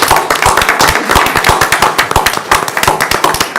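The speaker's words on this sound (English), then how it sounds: "I want to give you a round of applause" Audience applause at a county council meeting honouring a retiring employee, a loud, dense wash of many hands clapping with sharp individual claps standing out, continuous throughout with no talk.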